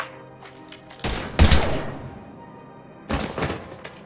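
Gunfire in Mass Effect 3: a few quick bursts of weapon shots and impacts, with a heavy thump in the middle and another volley near the end, over quiet game ambience.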